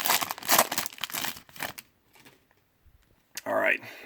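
Football card packs from a 2019 Score hobby box torn open, their foil wrappers crinkling loudly in close bursts, then a pause and another burst of crackle, with a voice talking alongside.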